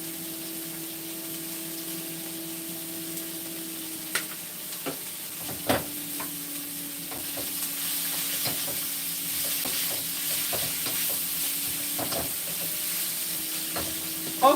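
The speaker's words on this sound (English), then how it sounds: "So I'm stir frying this for a minute." Steady sizzle of salmon frying in a pan, with a spatula occasionally scraping and clicking against the metal, no voices.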